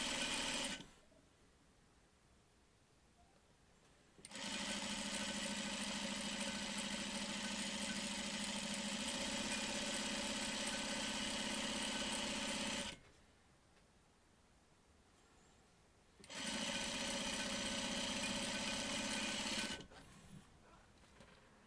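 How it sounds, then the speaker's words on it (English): A sewing machine stitches a quarter-inch seam in loud, close, even whirring runs: a brief burst, a long run of about eight seconds, a pause, then a shorter run, with no talk. "Sew on a 1/4-inch seam."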